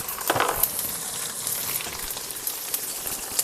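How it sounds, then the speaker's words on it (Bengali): Cumin and pepper paste frying with dry chilli powder in a pan, a steady crackling sizzle with scattered sharp pops and a few stirring scrapes, close by and with no talking. "জিরে মরিচ বাটাটাকে দিয়ে ভালো করে একটু কষিয়ে নেব। এবার এর মধ্যে দিয়ে দেব শুকনো লঙ্কার গুঁড়ো"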